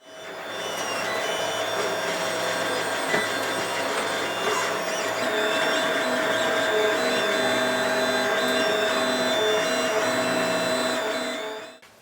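A 3D printer prints plastic parts for a BB-8 droid's head control arm, its stepper motors whining in a steady, close mechanical hum with shifting tones and small clicks throughout.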